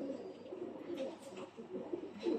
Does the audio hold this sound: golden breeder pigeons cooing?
yes